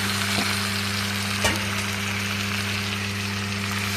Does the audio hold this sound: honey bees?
no